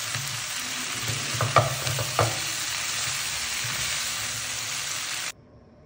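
Cauliflower frying with spices in a pan, a steady close sizzle with a couple of clinks from stirring, stopping abruptly near the end.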